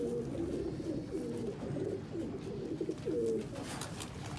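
Pigeons from a group kept as breeding pairs coo softly in repeated low, throaty phrases, several calls overlapping at close range over a faint steady background hum.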